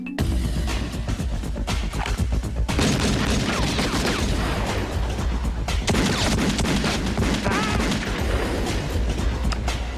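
Rapid weapons fire on a hot firing line, dense overlapping shots and booms in a continuous barrage at close range, with a brief lull partway through before the firing resumes.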